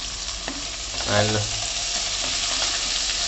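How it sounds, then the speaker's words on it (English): Onions with a teaspoon of salt frying in a pan for chicken keema biryani, a steady close sizzle with stirring scrapes and a brief word spoken over it. "So to help the onions fry, we're going to add in the salt."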